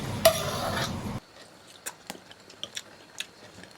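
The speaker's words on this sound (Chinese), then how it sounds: "爆炒口条" Pig tongue stir-fried in a wok starts with a loud, hissing sizzle for about a second, then drops off abruptly to quiet, scattered clicks and light taps.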